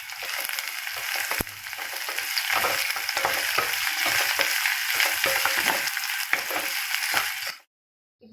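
Onions and curry leaves frying in a pan for Chettinad fish curry, a loud continuous sizzle with a spatula scraping and stirring through it, ending in a brief silence.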